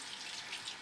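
A tap runs water onto a cloth to dampen it, a brief, faint, hissing stream heard alone.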